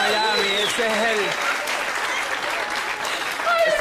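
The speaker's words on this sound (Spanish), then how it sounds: "Un aplauso, por favor." Studio audience on a Colombian TV comedy show claps in a dense, steady burst of applause, with people talking over it.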